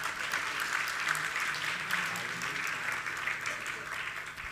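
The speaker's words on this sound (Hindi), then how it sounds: "तालियां बजाने से हम थोड़ी खुश होंगे।" Continuous audience applause during a Hindi religious discourse by a Jain monk, a steady wash of many hands clapping at moderate loudness without pause.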